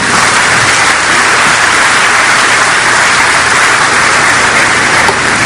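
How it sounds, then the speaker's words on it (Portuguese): A church congregation at a Sunday service applauds loudly and continuously, a dense, even wash of clapping that fills the whole stretch without a break. "pode aplaudir o Senhor"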